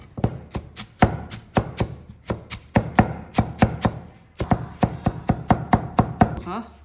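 Celery being chopped with a knife on a cutting board, a steady run of crisp, close knocks at a quick, even pace with one brief break midway.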